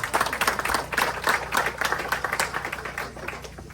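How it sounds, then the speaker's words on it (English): Audience clapping at an agri-tourism policy launch in Guyana, sparse and uneven with individual claps standing out in a loose rhythm, fading slightly toward the end. "Oh my God, we can clap better than that."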